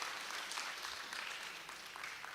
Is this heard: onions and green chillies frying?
no